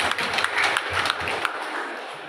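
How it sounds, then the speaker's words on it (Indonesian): Applause at a silver jubilee celebration for two religious sisters in Weetebula, a dense crowd clapping continuously at moderate volume, fading slightly toward the end. "Kita tepuk tangan untuk"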